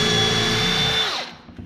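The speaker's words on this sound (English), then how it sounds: "I'm just going to pre-drill a couple holes, say a couple inches in and down from the edge." A power drill pre-drills holes into wood, a steady close, loud whine that winds down and stops after about a second.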